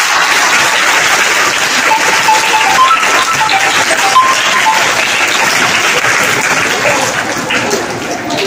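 Dense, sustained applause from a school audience at an Independence Day celebration, a steady rain-like wash of many hands clapping at once that holds loud and even before easing slightly near the end.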